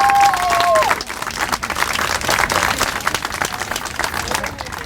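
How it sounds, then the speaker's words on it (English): Audience applause at a Day of Remembrance event for murdered victims, a steady wash of many hands clapping that holds for the full stretch, with a short bit of voice at the start. "Let's give her another round of applause."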